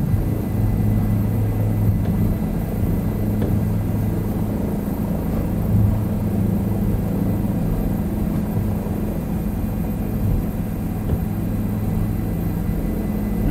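A helicopter makes a rolling, airplane-style takeoff from an airfield in a crosswind. Its engine and rotor give a loud, steady, close drone that holds evenly throughout, with no talking.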